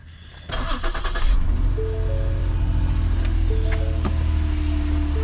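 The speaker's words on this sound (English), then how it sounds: "Another cold start on this one." A car engine cold-starts, one of a project car collection with a history of bad turbos: a brief cranking whir catches into a loud, close start, then settles into a steady, rumbling fast idle.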